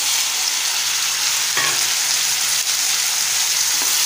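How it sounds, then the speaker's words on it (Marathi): Vertically sliced potatoes frying with lightly browned onions in a pan make a continuous close sizzle, broken by a couple of brief stirring scrapes and no talk. "त्यामध्ये आपण उभे चिरून घेतलेले बटाटे घालूया।"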